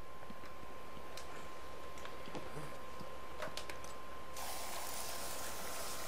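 Explosive gel sprayed from a gadget in the video game Batman: Arkham Asylum, a steady hiss that turns into a broader, louder spray near the end, with a few scattered clicks and ticks over constant game ambience.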